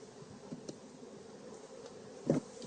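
Honey bees buzzing on hive frames during a hive inspection, a soft continuous drone with a few nearer passes and one louder close buzz near the end.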